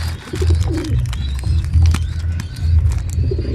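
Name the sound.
pigeons cooing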